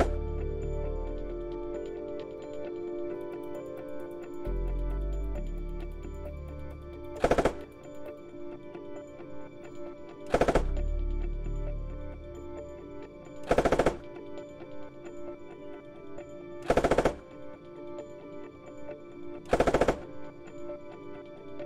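Coax machine gun on Australian armor in the video game Squad, firing five short, sharp bursts spaced a few seconds apart over a steady engine rumble, loud and close.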